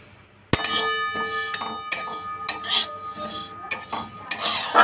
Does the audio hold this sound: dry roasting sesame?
yes